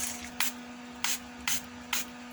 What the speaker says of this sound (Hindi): अपने फेस पर स्प्रे करती हूँ लाइक दिस